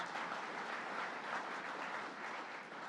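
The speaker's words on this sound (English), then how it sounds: "Let's give him a round of applause." Steady applause from a crowd at a New York workforce training center announcement, dense clapping that holds at an even level for a few seconds without any voices.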